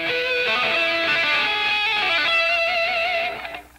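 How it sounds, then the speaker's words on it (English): Electric guitar notes tapped with the forefinger or second finger, in 1980s style, play as a continuous bright, sustained phrase of shifting pitches, close and fairly loud, then fade out at the end. "Also, you can tap that with your forefinger or second finger."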